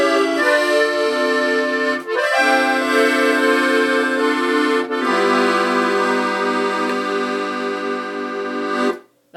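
A Stradella bass accordion plays the chords and melody of a song in sustained, reedy notes. It is loud and close, with brief bellows breaks between the held chord changes and no voices.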